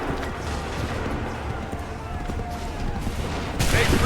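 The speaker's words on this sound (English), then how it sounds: "Make ready. Open fire." Musket volley fire in the Assassin's Creed 3 video game, a dense, continuous crackle of battlefield gunfire with a louder burst at the end, while shouted commands ring out over it.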